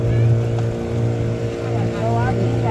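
Motorboat engine droning steadily on the Moa River near Tiwai Island in Sierra Leone, a continuous low hum with water and wind noise, close and fairly loud, with faint voices underneath.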